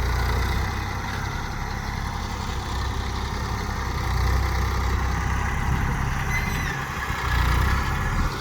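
A tractor engine idles near a pit being filled with earth, producing a steady low rumble with a constant mid-range drone, close and unbroken for several seconds, swelling slightly toward the end, with no talking.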